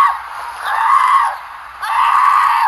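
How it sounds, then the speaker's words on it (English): A woman screams repeatedly in two long, loud, strained wails separated by a short gap, captured on recorded footage of a violent police arrest on the ground. "the sound of a woman screaming"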